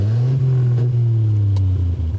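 A Bentley 3 1/2 Litre inline six-cylinder engine runs with its exhaust flaps opened, giving a loud, deep, steady rumble up close with slight swells in revs.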